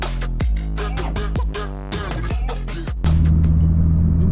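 A Toyota GT86 on a road test drive, heard from inside as a steady, loud engine drone with a few sharp knocks and a deeper rumble rising near the end.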